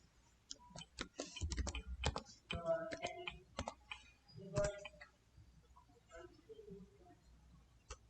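Keys clatter on a computer keyboard as the word settings is typed into the Windows 11 search box: a quick run of light, close clicks with short pauses between bursts.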